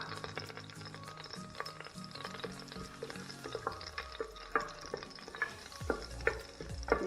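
Cinnamon and cloves frying in hot oil in a pan, a soft steady sizzle with stirring scrapes and small clicks, faint and close.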